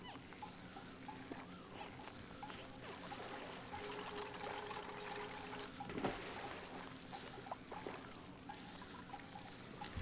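Steady game-style water flow in Oxygen Not Included, a continuous pouring, trickling wash that runs the whole time at moderate level, with a small bump near the middle.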